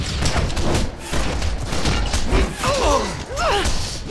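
Rapid gunfire and combat effects in the superhero game DC Universe Online come as dense, continuous bursts, joined near the end by short whistling, swooping tones.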